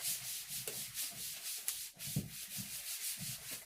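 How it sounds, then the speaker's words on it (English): A damp cloth wipes across a wet tabletop in short, repeated rubbing strokes, close and moderately quiet, with a soft swishing texture and no speech. "Wiping down my table because it was wet."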